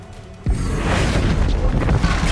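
A Confringo blasting spell bursts in Hogwarts Legacy combat, a sudden loud boom followed by a sustained rumbling roar.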